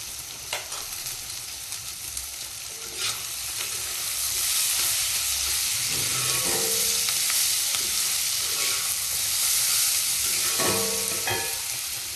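Cauliflower frying in a wok with steady, close sizzling that swells midway, broken by the scrape and clink of stirring, with no voices.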